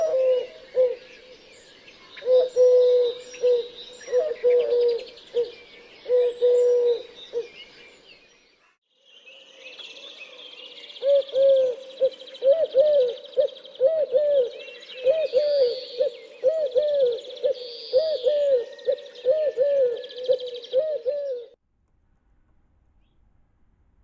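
A male Eurasian collared dove coos in repeated rhythmic phrases, fairly close and clear, with higher-pitched birdsong twittering over it and a short pause midway.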